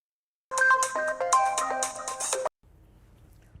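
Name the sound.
telephone ringing on a call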